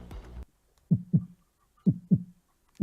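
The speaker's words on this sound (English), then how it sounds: "It's a heartbeat." Deep, muffled heartbeat thumps arrive in two closely spaced double beats after a brief opening sound, followed by the start of another beat, each pulse dull and low against near silence.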